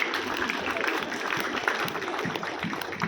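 An audience of about 403 students applauds at an agricultural training event in Sabah. The clapping is moderate and continuous throughout.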